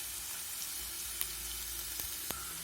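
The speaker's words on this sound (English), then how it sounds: "I have taken 2 fresh cut onions, which I'm going to fry it" Fresh-cut onions fry in a pan for a vegetable biryani, a soft steady sizzle at low level with a few faint clicks of a utensil against the pan.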